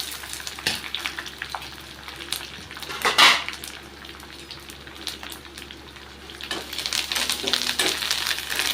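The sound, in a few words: frying spices in oil for tamarind paste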